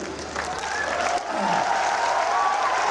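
An audience at a poetry recital breaks into sustained applause, clapping steady and dense as it swells and holds throughout.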